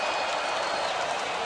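Stadium crowd at a Brazil versus Argentina Copa America semifinal football match gives a short burst of dense, distant applause, a steady wash of clapping.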